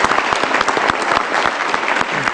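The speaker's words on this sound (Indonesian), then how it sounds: "Saya ingin kita beri tepuk tangan Mas Rangga Riantriarno." A studio audience at a theater talk show applauds Rangga Riantiarno of Teater Koma with loud, dense, continuous clapping close by.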